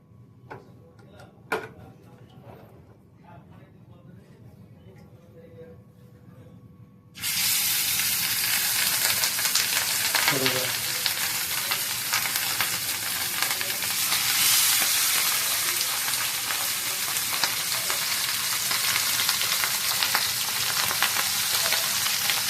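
Pieces of katla fish drop into hot mixed oil and ghee, and a loud dense frying hiss starts abruptly and holds steady, following a quieter stretch of faint kitchen clicks and taps.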